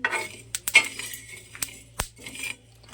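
Hemp seeds roasting in a pan, with a utensil scraping and clinking against the metal in a few sharp, irregular strokes amid a quiet background hum.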